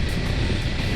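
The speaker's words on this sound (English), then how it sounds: "There's so much wind, and it completely drowns out the noise of the bike." Steady, loud wind roars across the microphone at highway speed on a 2021 BMW F 850 GS motorcycle in top gear, a dense rushing blast that drowns out the engine.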